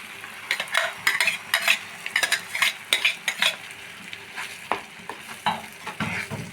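Blended paste of fried onion and cashew nuts hits a hot pan for a white chickpea curry, sizzling loudly. Repeated scraping strokes of a spoon stir it in an uneven rhythm.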